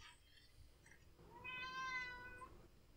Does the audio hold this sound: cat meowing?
yes